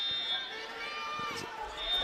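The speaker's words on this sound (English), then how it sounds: "we got a fire alarm going off in the background" A fire alarm sounds at a high school wrestling match in a gym, a steady high electronic tone running throughout, mixed with crowd noise and ongoing talk.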